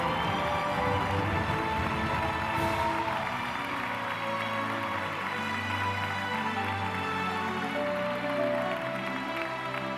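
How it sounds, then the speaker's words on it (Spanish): Audience applause at an award gala, a dense, steady wash of clapping that fills the whole stretch at a constant level without a break. "Un aplauso para él."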